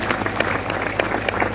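A graduation crowd claps in a short burst, quick scattered hand claps over a low steady hum, fairly close and loud.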